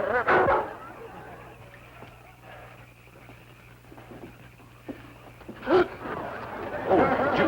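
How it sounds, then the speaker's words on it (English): A big dog barks in a yard in a few short bursts, loudest at the start and again near the end, with quieter shuffling in between. "There's a big dog running loose in the yard"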